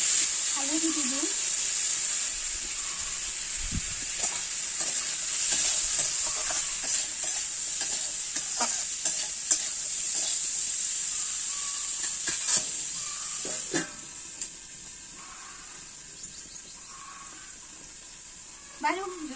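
Potatoes with turmeric frying in a pan while being stirred, a steady close sizzle with scraping stir strokes throughout, light voice sounds in the background.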